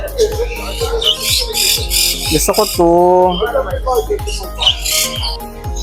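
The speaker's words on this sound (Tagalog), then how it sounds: "para siyang normal lang na ibon. Ang ingay nito, oh." Loud bird squawks and chirps repeat in quick bursts, close by, with a person speaking briefly over them.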